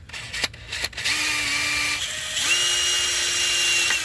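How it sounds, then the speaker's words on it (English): A small drill bit bores into the rear main seal of an Aston Martin, a thin, steady motor whine in two separate bursts, preceded by a few sharp clicks and handling knocks. "I like to just start by drilling a hole in the seal itself. Here is to go with a small drill bit first"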